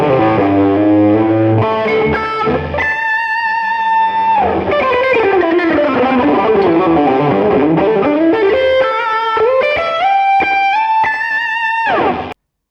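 Electric guitar lead tone through a Neural DSP Tone King Imperial MKII amp plugin: a loud, sustained, overdriven melodic line with bent and held notes ringing continuously, played alone without talk.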